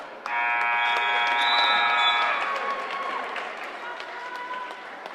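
A long electronic buzzer ending the first half of a varsity boys' basketball game blares over a noisy crowd, then fades as cheering and chatter carry on in a gym.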